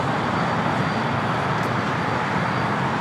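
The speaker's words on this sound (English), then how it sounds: "This is United Airlines 801 taking off to Hong Kong on the 787-9 Dreamliner." Distant jet roar of a United Airlines Boeing 787-9 Dreamliner taking off at LAX, a steady broadband rumble that stays even for a few seconds with no voices.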